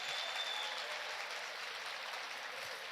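Sustained audience applause fills a seminar hall during an early-childhood education panel, a dense, even roar of many hands clapping at a steady level throughout, heard from a distance without any voices over it.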